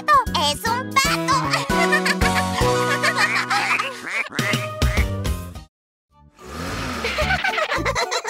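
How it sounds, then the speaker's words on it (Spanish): Repeated cartoonish duck quacks over a bouncy children's song with chimes and giggles, loud and playful, with a short silent gap near the end. "¡Es un pato!"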